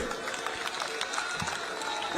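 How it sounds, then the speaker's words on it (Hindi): A crowd claps for a candidate at an outdoor political rally in Jangpura, Delhi, with irregular bursts over steady background noise and some voices mixed in. "आगे जोर से ताली बजाओ तरविंदर सिंह के लिए"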